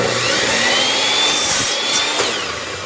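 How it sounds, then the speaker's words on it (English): A miter saw set to a 45-degree angle cuts through an old board that still holds nails: a loud steady motor whine with broadband cutting noise that fades slightly toward the end. "So I set my miter saw to a 45-degree angle and I'm going to turn her and cut both sides"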